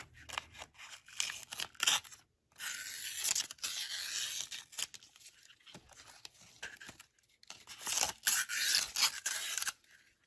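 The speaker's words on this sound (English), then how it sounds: "The paint is dry, it's time to remove tape." Masking tape peeling off a freshly painted 1/64-scale Wesco grain double trailer model in white and yellow, close ripping and tearing strips in short bursts with brief pauses, no talking.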